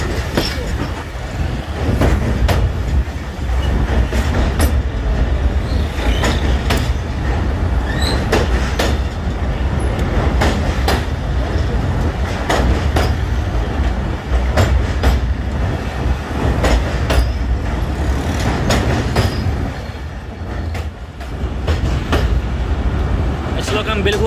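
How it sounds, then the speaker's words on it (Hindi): Rehman Baba Express running from Peshawar to Karachi with new Chinese coaches, heard from the last coach as it crosses a bridge: a loud, continuous rumble with steady clickety-clack of wheels on rails, and a voice talking over it. "रहमान बाबा एक्सप्रेस जो चली है पिशावर से कराची के लिए तकरीबन 2 घंटे लेट है"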